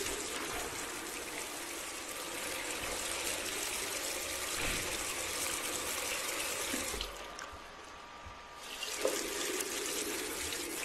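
Water running steadily to raise the water level in a bathroom in a video game, a continuous faint rushing stream like a tap filling a sink, briefly dipping before resuming.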